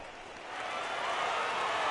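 A home crowd in a PS4 baseball video game cheers and applauds with a steady broadband roar that swells gradually and holds, distant and without distinct voices.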